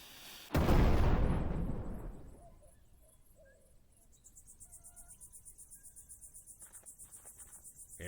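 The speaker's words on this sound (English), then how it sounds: "And an explosion will certainly liven up your article." In the video game Rosewater, one big explosion erupts loud and close, a broad roaring blast that slowly fades over about two seconds, leaving a steady chirping of crickets behind.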